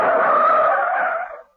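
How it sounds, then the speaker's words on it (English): Tires skid as a car screeches to a halt behind the stands of a bull ring, a loud sustained squeal that holds steady, then fades out over about a second and a half. "He screeched his car to a halt at the back of the stands"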